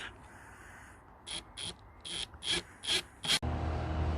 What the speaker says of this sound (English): apologies for the noise in the background, someone's having their hedge cut.